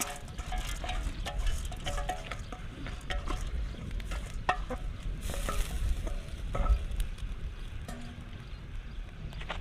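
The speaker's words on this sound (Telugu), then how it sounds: "బియ్యాన్ని వేసుకొని మంచిగా ఒకసారి అయితే కలుపుకోవాలి." Soaked rice stirred into boiling water in a pot for homemade vegetable paneer pulao, with steady bubbling and sizzling under repeated scraping and stirring strokes, close and continuous.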